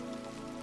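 Steady rain falling on a surface, a soft continuous wash of drops with a low, even hiss, faint and unbroken.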